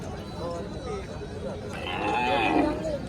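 Bullocks low in a drawn-out call at the Rajur cattle market, loudest toward the end, over a noisy outdoor background with some voices nearby.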